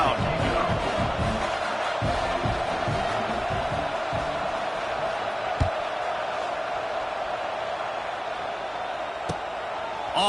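A stadium crowd in an NCAA football video game roars and murmurs in a dense, steady wash of noise, with a few sharp thuds cutting through.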